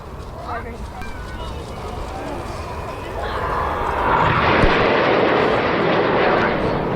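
Red Arrows RAF aerobatic jets breaking formation at the Cosford Airshow, the engine roar building from a distant rumble into a loud, broad rush, under continuous commentary.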